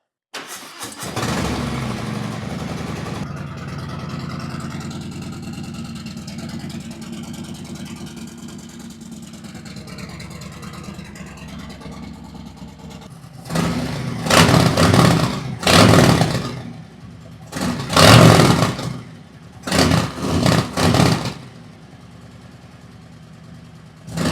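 A Harley Lowrider S with a Trask Assault 2-into-1 exhaust cranks and fires up, settles into a loud lumpy idle, then barks through several sharp throttle revs up close.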